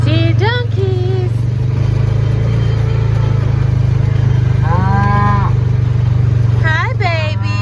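Cattle mooing on a farm, a bull and calves giving several drawn-out moos near and far, while a steady low engine-like rumble runs underneath throughout.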